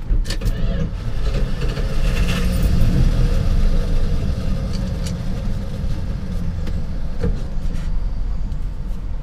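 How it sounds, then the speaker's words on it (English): A 1977 Dodge D200 Custom Utiline stepside long-bed pickup truck driving, with a loud, steady low engine rumble and road noise throughout and a few faint clicks and knocks. "let's go for a little drive"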